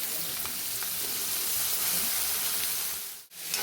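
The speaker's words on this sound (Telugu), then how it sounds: "ఒక్క 2 minutes అట్లా ఫ్రై అవ్వనివ్వండి ఉల్లిగడ్డల్ని" Thinly sliced onions fry in a pan for vegetable fried rice, giving a steady, close sizzle and hiss with light stirring sounds, briefly cut off near the end.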